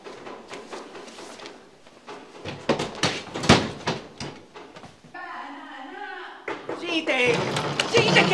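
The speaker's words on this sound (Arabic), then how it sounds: "يا ربي شو أعمل؟ لازم أكسر الباب." A door inside a home is forced and banged on, with several loud, sharp thuds and knocks partly masked by agitated voices talking over them.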